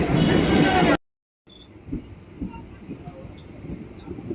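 Sealdah–Diamond Harbour local train pulling into Baruipur, with a loud burst of wind and rumble, a brief dropout, then a quieter steady rolling drone of the moving carriage.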